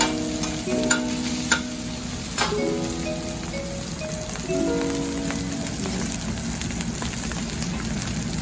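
Brisket, shoulder and pork belly fat fry until crispy, loud and close, with a dense crackling sizzle, sharp pops scattered throughout and a few faint ringing tones early on.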